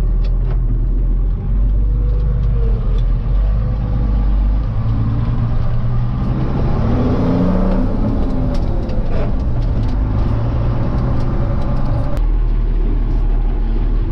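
A Fortschritt ZT 323 tractor pulls away with a loud, steady low diesel rumble and engine drone that persists throughout, close by and without a pause.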